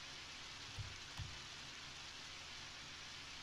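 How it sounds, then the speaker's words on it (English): Rain in the video game Undertale, a steady faint hiss of falling drops throughout, with two soft low thumps early on. "It's because it's raining."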